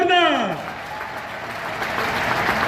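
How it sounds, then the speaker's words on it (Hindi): A large crowd at a Rajasthan public event in Ajmer applauds loudly and steadily for nearly three seconds, the clapping sustained throughout, after a shouted call from the stage that rings out at the start. "अगर सही कह रहा हूं तो तालियां बजाओ जोरदार"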